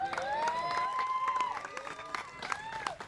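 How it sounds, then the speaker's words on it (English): Crowd cheering and clapping at a cricket championship award ceremony, lively applause with whistles and shouts blending into a busy, continuous roar. "Loud cheer for Ajay Singh."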